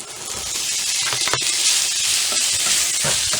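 Sausage dropped into a hot pan of garlic for breakfast tacos fries with a steady, close hissing sizzle, a continuous bright crackle that holds at an even level throughout, with no talking.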